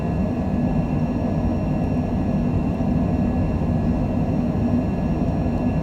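An airliner in a flight simulator game rolls down the runway for takeoff at Buenos Aires, giving a steady, loud broadband jet engine roar with faint high tonal whines, unbroken and without voices.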